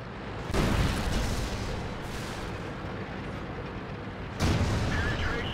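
A tank gun fires a high-explosive shell in World of Tanks: a heavy, booming blast with a rumbling tail, then a second loud discharge a few seconds later, over steady battlefield noise.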